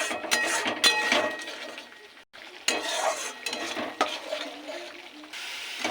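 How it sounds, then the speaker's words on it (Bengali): Salt, turmeric and chilli powder stir-fried in hot oil for a tilapia fish curry, with steady sizzling and a spatula scraping and clinking against the pan, broken by a brief pause midway. "এটাকে এবার ভালো করে কষবো"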